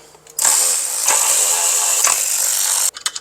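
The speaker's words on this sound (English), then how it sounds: "We're going to drop those bolts now." A power ratchet spins out 10mm bolts holding the transmission filter on a Volkswagen Tiguan 4Motion, a loud, steady high whirring lasting over two seconds, ending in a few quick clicks and knocks.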